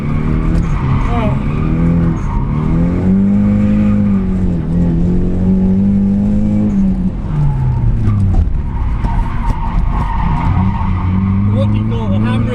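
A street-legal Nissan 200SX S14 drifting with the handbrake, its engine droning and rising and falling in pitch with squealing tires, loud and continuous, while people talk inside the car.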